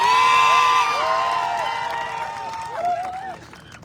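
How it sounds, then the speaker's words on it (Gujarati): Crowd at a political rally in Gujarat applauding and cheering, a loud wash of clapping and whoops that fades over a few seconds, with an amplified voice ringing over it. "સૌ તાળીઓથી વધાવી લે મિત્રો."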